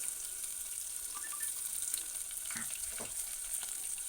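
Onions fry in a pan for a young ram's head curry, giving a steady close sizzle with a few faint stirring scrapes and no voices.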